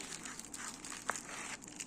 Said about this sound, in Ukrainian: Ось такий у мене зіп-пакетик.